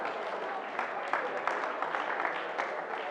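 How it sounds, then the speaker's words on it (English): Students at a December 2019 STEAM camp clap for a classmate named Joy, a loose, moderate patter of hands with a few sharper claps, fairly distant in a room. "Yes, let's clap for Joy."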